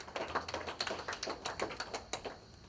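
Audience at a literary celebration of African writers applauding, crisp individual hand claps in a loose, scattered rhythm, close and fairly quiet.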